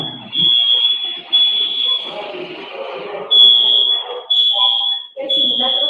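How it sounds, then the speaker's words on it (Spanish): A fire alarm gives a shrill, high electronic tone in repeated long blasts with short gaps, loud and steady, while people talk in Spanish underneath. "Es la alarma de incendios."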